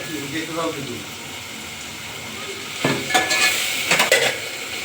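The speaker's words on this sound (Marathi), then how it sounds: "ह्याच्यामध्ये आपण बटाटा वगैरे टाकून घेतलाय छान असं फ्राय करून घेऊ" Potatoes fry in a pan for bhagar, a fasting-day grain dish, giving a steady sizzle with scraping stirring strokes that grow louder toward the end, no talk heard.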